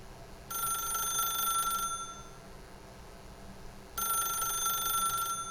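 A telephone rings in the video game The Stanley Parable: two bright electronic ringing bursts of about a second and a half each, separated by a pause of quiet room tone.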